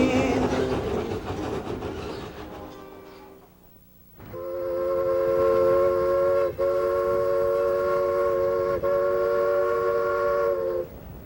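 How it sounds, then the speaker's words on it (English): A sugarcane train rolls through the outskirts of Lahaina, Hawaii, with a low rumble underneath. A fading tone sounds first, then a loud, sustained horn chord holds for several seconds with brief dips. "Once the train reaches the outskirts of Lahaina, it rejoins the highway and rolls through a pretty residential neighborhood."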